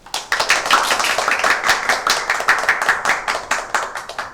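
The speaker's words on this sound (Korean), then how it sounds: "그럼 다 같이 큰 박수로 시작하도록 하겠습니다" Clapping from a small audience opens a Korean finance-sector recruitment talk concert, steady overlapping hand claps with a bright, dense texture lasting several seconds, close and fairly loud with no speech over it.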